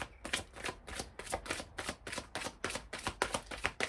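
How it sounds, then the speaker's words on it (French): A deck of oracle cards is shuffled close by in a steady rhythm of quick papery riffles and soft flicks, repeating evenly with no voice over it. "On va prendre quelques cartes de l'oracle des miroirs."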